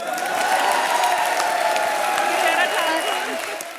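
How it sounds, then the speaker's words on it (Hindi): Studio audience on a Hindi comedy show bursts into loud, dense applause with some cheering, steady throughout and slightly fading at the end. "ठोका ताली भाई"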